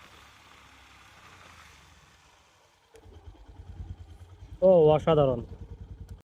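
Yamaha FZ-X motorcycle engine idling with a low, steady pulsing rumble during a brake test, starting partway through after a quieter stretch, with someone speaking briefly over it.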